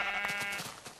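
A sheep in the Minecraft video game bleats once, a short wavering cry heard clearly on its own.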